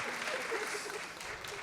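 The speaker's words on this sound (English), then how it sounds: "there's room for applause. There's always room for applause." A crowd applauds, a dense steady wash of clapping with voices mixed in underneath, sustained throughout.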